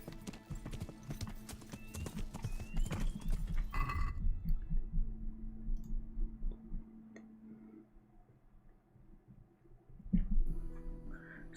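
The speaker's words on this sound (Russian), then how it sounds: "Что здесь делает лошадь Рацига?" Horse hooves clip-clop steadily in Kingdom Come: Deliverance, joined by a neigh or whinny, with game ambience and a louder burst of hoofbeats near the end.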